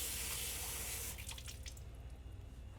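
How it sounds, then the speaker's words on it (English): Water poured from a tap into a pan of thickening fudge sauce over low heat, a steady rushing stream that stops after about a second, leaving faint drips and small sounds close by. "A little more water goes in."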